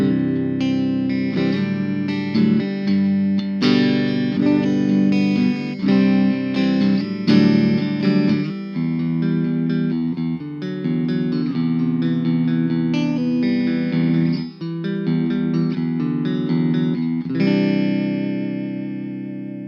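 Clean, dry electric guitar with single-coil pickups played through a Boss Katana Mini X amp: chords and single notes ring out steadily and close, alone with no talk, and the last chord sustains into a fading tail.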